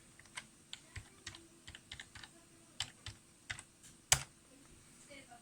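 Computer keyboard keys clatter in short irregular bursts as a username and password are typed, close and fairly quiet, with one sharper louder keystroke near the end.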